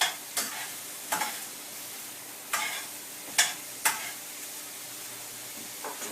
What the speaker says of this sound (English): So let's just check on our onions again. They've been frying for the last couple of minutes.